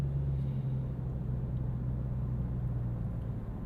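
A 2026 Nissan Sentra SL creeping slowly along a snowy road at night, with a steady, low engine and road rumble that stays constant throughout and no talking.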